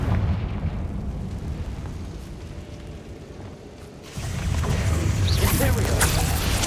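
A Confringo fire spell detonates in Hogwarts Legacy, a sudden loud booming burst at about four seconds that swells into a sustained, crackling rumble over continuous game background noise.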